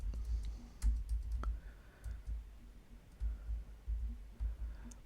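A computer mouse clicks in a quiet room, several small sharp ticks scattered irregularly over a low rumbling background.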